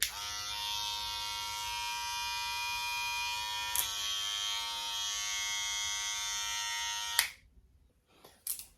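An electric hair trimmer buzzes steadily at close range for several seconds, then cuts off with a click, followed by faint handling noises.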